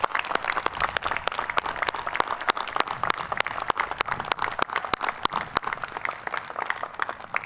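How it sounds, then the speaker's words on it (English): Audience applause at a Coast Guard Academy graduation ceremony: many individual claps ring out crisply and continuously, moderately distant, with no voices over them. "Please join me in a round of applause."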